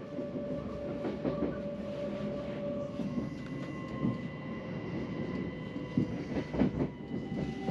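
Passenger train running on the approach to Ely Station, a steady rolling rumble of wheels on rail with faint clicks and brief louder swells, heard from on board, no talk.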